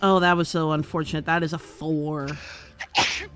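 A single sharp sneeze bursts out near the end, close and loud, following a stretch of speech from several people.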